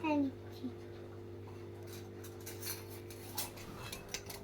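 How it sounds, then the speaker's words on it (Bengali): A metal spatula stirs leafy greens fried with salt and turmeric in a small pan in a miniature kitchen, giving faint, scattered scrapes and light clinks over a steady low hum. "এবারে নাড়াচাড়া দাও খুন্তি দিয়ে।"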